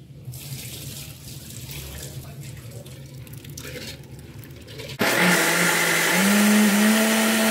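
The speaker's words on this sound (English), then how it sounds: "So you wash it 2 times because when we soak or before we soak, we always wash and then we soak." Soaked urad dal rinsed under running tap water in a sink, a soft steady trickle that turns abruptly into a louder, rushing gush of water partway through.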